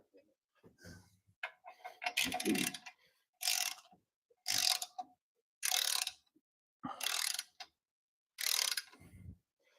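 Ratchet wrench snugging the clutch pressure plate bolts on a Toyota 1MZ engine, heard as several short bursts of rapid clicking separated by pauses, close and fairly loud.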